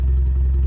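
A Volkswagen Golf 5 engine idles in neutral, a steady low rumble heard close up with a slight clatter and no speech.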